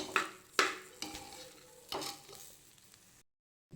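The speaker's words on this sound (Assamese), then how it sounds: "চাউলখিনি ইয়াতে মই দি গোটেইখিনি মিলাই দিছোঁ" Rice stirred into ghee, bay leaves, cloves, cinnamon and ginger-garlic paste in a pot for chicken biryani, a few loud scraping knocks of the spoon against the pot over a soft sizzle, close up, with no voices.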